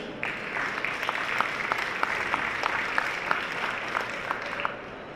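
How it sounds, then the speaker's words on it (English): Conference audience applauding panelists on stage at a telecom industry panel, a sustained, even wash of many hands clapping at moderate distance, with a few sharper individual claps standing out. "Folks, I think we owe a round of applause here."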